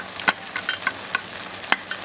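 Tomatoes stir-fried in a wok until juicy, with scraping spatula strokes against the pan at an irregular rhythm over a steady background sizzle.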